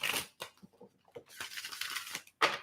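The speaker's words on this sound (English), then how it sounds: "Shuffle this real good for you, Shelly." Tarot cards being shuffled by hand close up, quiet rustling and snapping bursts with brief pauses between them, no voices.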